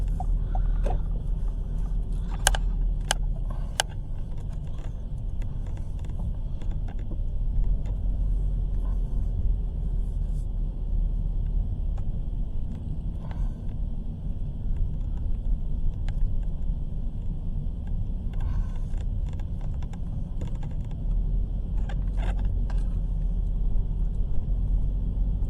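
A low, steady road rumble inside a moving car, picked up by a dash-mounted camera, with faint ticks and bumps and no talking.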